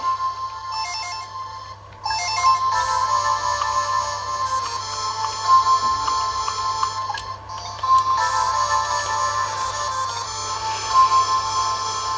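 An electronic phone ringtone from a Game Boy game plays as a steady, repeating chiptune tone pattern, loud and close, with brief pauses between bursts and no talk.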